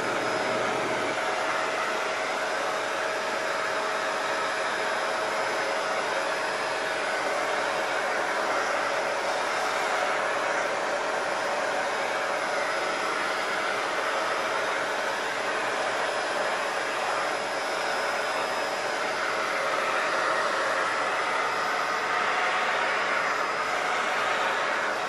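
A Shark Powered Lift Away NV750W upright vacuum cleaner with its extension attached drones steadily and loudly, a continuous motor whine with airflow hiss that holds throughout without breaks or talk.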